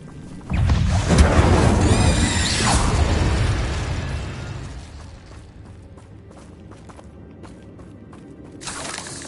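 A fire-and-explosion spell cast in Hogwarts Legacy bursts with a loud, dense blast that rumbles for several seconds, then fades into quieter scattered game effects before a brief hiss near the end.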